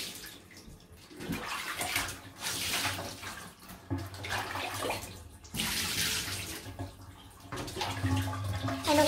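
Tap water gushes into a tub or sink during a small Morkie dog's bath, rushing in loud surges that come and go as the stream shifts.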